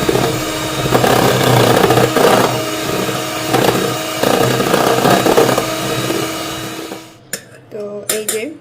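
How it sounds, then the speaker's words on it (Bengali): An electric beater whips cold cream and milk in a bowl, a loud continuous motor whir with rhythmic clattering against the sides, then switches off, leaving a few clinks. "এই ৩ টা দিয়ে ইলেকট্রিক বিটারের সাহায্যে আমি বিট করে নিয়েছি"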